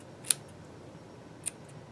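Old sewing scissors, no longer very sharp, snip doll hair short: two crisp, close metallic clicks about a second apart over a quiet background.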